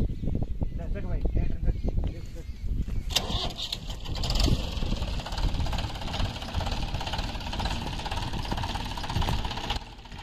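A tractor rigged up as a makeshift crane to lift a heavy load on a farm runs with a steady, rumbling, knocking engine drone throughout, close by, with people talking over it.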